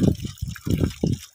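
A camel drinks from a hand-pump water tap in the Thal desert at Noorpur Thal, Khushab, Punjab, with close, repeated bursts of splashing and gulping water in an uneven rhythm.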